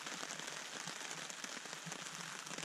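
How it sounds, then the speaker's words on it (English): Steady rain pattering on surfaces around a lakeside campsite in the woods, a dense, even hiss with no voices, continuous and moderately close throughout. "but the rain has settled in."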